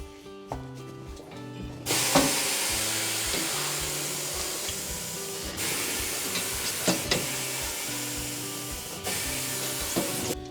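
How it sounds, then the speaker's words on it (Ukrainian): Air hisses out of a car tire being deflated at a tire shop, a loud steady rushing spray that starts after a short lead-in and runs on with a few brief breaks and clicks. "спускаємо повітря"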